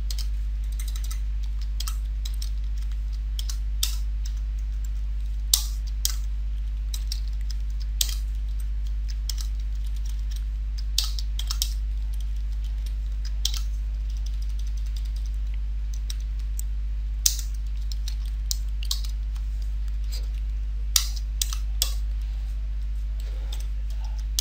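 Keys clatter steadily on a computer keyboard while HTML code is typed, a run of light, irregular clicks with a few sharper taps standing out over a constant low electrical hum.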